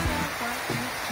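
Rain falls steadily outdoors during a passing tropical storm, a broad continuous wash of noise with faint low tones underneath, fairly loud and close.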